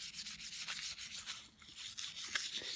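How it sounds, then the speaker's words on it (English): Steel wool or a scouring pad scrubbing a copper circuit board to roughen its surface for etching, a steady close, dry rasping that runs without a break and stays fairly quiet. "we then use some steel wool or a scouring pad just to roughen up the surface"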